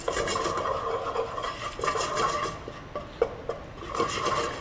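Whole spices toasting dry in a pan are stirred and knocked with a wooden spoon, making a continuous scraping rustle with soft clacks and a couple of sharper taps, close by.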